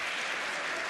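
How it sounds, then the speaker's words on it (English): Crowd applause at a grappling match between women competitors, a steady dense wash of clapping filling the whole moment, fairly close and continuous without breaks. "Rich Mitchell gets an applause from the crowd"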